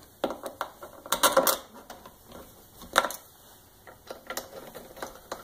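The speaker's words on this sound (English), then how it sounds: "We'll put our 2 screws in here." Screws being driven in while reassembling a Kirby Sentria II vacuum cleaner: a series of close, sharp clicking and ratcheting bursts, with one dense cluster early and scattered clicks after.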